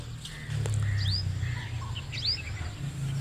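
Morning birdsong from several birds other than a koel, with short rising chirps and whistled notes at moderate distance over a low steady rumble.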